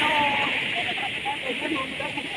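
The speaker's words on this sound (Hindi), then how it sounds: "ये नीचे देखें, आपको पानी की लहरें" The waters of the Indus River rush and churn below Taunsa Barrage, making a constant hissing roar, with someone talking over the flow.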